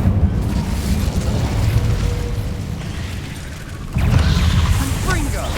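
Fire spell cast in Hogwarts Legacy, heard as a dense, roaring burst that sustains loudly for several seconds, then swells again into a fresh surge near the end.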